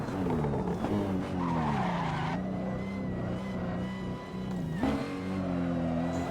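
A BMW M3 drift car in the racing simulator Assetto Corsa slides sideways with tires skidding and squealing loudly over a revving engine, the skid going on almost without a break and shifting in pitch as the car drifts.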